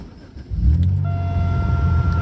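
A 2005 Buick Century Custom with about 200,000 miles starts up, its engine catching after a brief crank and settling into a steady, fairly loud idle heard through a cracked window, with no voices.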